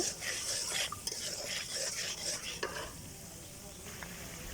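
A utensil scrapes and stirs shrimp curry paste and salt in a sizzling pan, with irregular metallic strokes close by over a low frying hiss.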